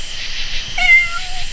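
An all-white cat gives a single drawn-out meow, close and clear over a steady background hiss, during a nighttime paranormal investigation in Frankfort, Indiana.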